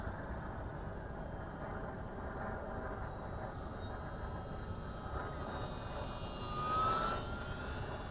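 E-flite UMX Waco BL electric RC biplane flying at partial throttle, a faint steady motor hum against outdoor background noise with a brief high whine as it passes.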